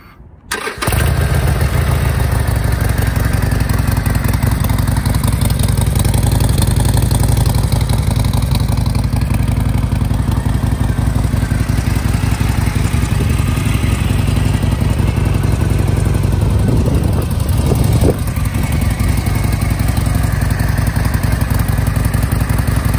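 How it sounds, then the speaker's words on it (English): A 2020 Harley-Davidson Sportster Iron 1200 engine fires up and settles into a loud, deep, loping idle that rumbles steadily close by, with a brief blip partway through. "Let's go ahead and start this motorcycle so you can hear it go."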